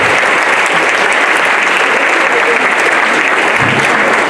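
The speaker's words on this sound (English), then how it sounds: "everybody clap it up" Loud, sustained crowd clapping from a university audience greeting a student speaker before an open discussion, a thick continuous wash of hands close by, with faint voices underneath.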